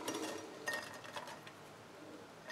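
Garlic cloves dropped into a scalded glass jar onto a rosemary sprig for fermenting give a few faint clinks and taps close by, followed by a quiet rustle.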